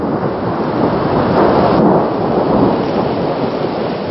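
Thunderstorm rolls over a mountainside at about 1500 m on Odaesan, heavy rain hissing steadily with a low, sustained rumble of thunder throughout, loud and close, with no voices.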